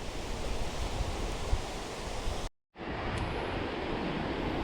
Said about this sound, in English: With raging sound of furious waves and powerful winds, this is Kalapathar beach